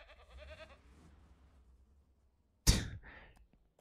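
Goats bleating in the video game Ranch Simulator: a short wavering bleat at first, then a sharp loud burst and a second fainter bleat, heard close and alone.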